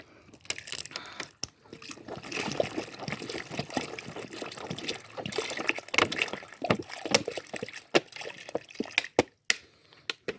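Mineral water poured from a bottle over boiled corn prepared as carp bait, a continuous splashing, gurgling stream with scattered drips and small bursts, fairly close and steady for the whole stretch.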